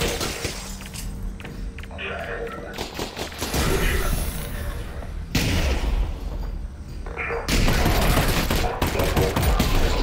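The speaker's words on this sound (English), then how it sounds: "Did I shoot that Alex?" Gunfire in the VR shooter Half-Life: Alyx, with loud, dense bursts of shots and crashing impacts that continue without a break and swell in intensity partway through.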